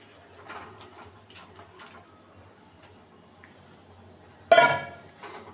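Eggplant pieces dropped into a pot of simmering curry, a sudden loud splash and clatter near the end after quiet faint kitchen clinks and bubbling, close by with no talk.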